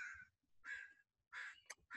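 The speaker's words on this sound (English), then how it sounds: "these crows are getting really loud" Three or four harsh crow caws in a row, quite faint and distant-sounding, separated by short pauses.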